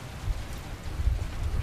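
Steady rain pours down during a nighttime storm over Santa Monica, a dense, continuous hiss with a low rumbling undertone that stays loud and even throughout, with no voices.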